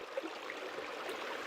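Flowing water at Ram Jaladurgam makes a soft, steady rushing hiss that continues evenly throughout, faint and without other sounds on top.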